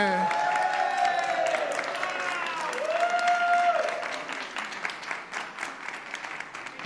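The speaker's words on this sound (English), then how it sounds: "So if I get a round of applause for Karina Martinez." Audience applause at a leadership institute demo day, steady clapping with some cheering from the crowd running the whole stretch, with a raised voice briefly audible over it.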